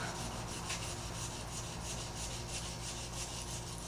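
Abrasive grit sanding a stainless rifle barrel on a custom Mosin Nagant, a continuous soft rubbing rasp back and forth, close and fairly quiet, with no speech.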